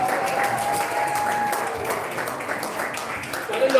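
A crowd at a creator meet-up in Ghana claps continuously for a few seconds, a broad, moderately loud spread of hands with a faint tone running underneath.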